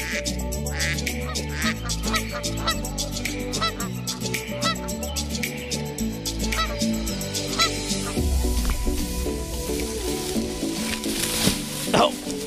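Geese honk repeatedly and close by, a busy overlapping chorus of calls with some brief talk mixed in.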